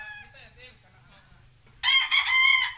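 A rooster crows loudly and close by on a Filipino farm raising Lemon 84 and Kelso gamefowl, the call bursting out after a quieter stretch of faint clucking and low background hum.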